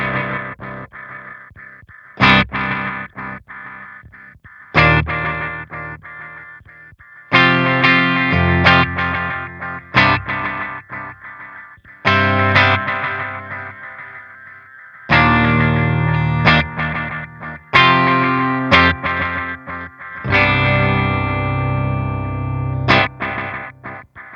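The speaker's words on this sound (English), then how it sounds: "this is a dual delay pedal, so there are 2 delays in this pedal." Electric guitar through a Gigagain dual delay pedal with an analog-style decay, playing bursts of chords and notes whose repeats trail and smear between phrases, loud and up close with no talking.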